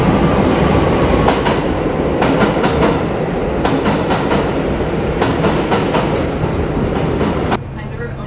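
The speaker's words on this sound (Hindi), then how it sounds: "इधर की ट्रेन और ट्रैक्स काफ़ी पुराने हैं, मेंटेन नहीं कर रखे।" An old, poorly maintained New York subway train rumbles loudly on worn tracks with rhythmic clickety-clack wheel beats, and a voice talks over the noise before the din drops away near the end.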